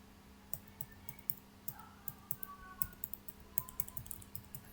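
Fast, uneven keystrokes clatter on a computer keyboard close by, with a steady low hum underneath and no voices.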